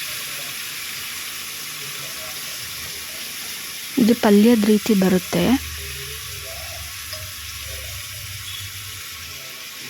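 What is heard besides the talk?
grated cucumber with its water added to a hot pan, sizzling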